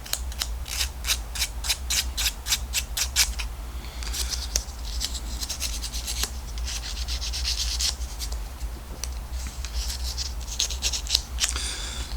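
End of a small part from an OO gauge village well model kit being smoothed with paper: a series of quick, crisp scraping strokes in bursts, close and fairly quiet.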